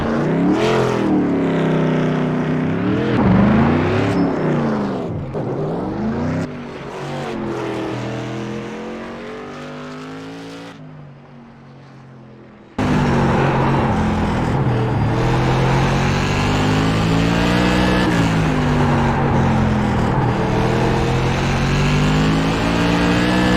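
Whelen Modified Tour race cars roar through qualifying at Slinger Speedway, engines revving and shifting in rising and falling sweeps, loud and continuous with a brief dip before the roar surges back.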